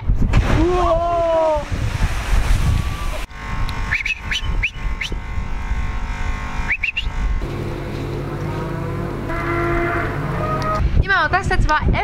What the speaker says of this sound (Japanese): ここには牛の牧場があって